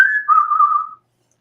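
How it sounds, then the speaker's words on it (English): One person whistles a short, clear phrase, a bright sustained note that slides down slightly and holds before stopping, close and loud with silence after. "That is a fine whistle you have, sir."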